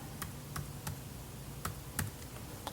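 Serial number for an Alpine X009-FD1 head unit being entered on a computer keyboard, a few separate, quiet key clicks with gaps between them over a faint room hum.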